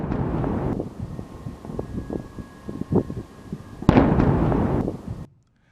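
Repeated explosions from missiles and suicide drones striking Kyiv, dull booms and bursts scattered through a low rumbling background, with a sharp louder blast near the end.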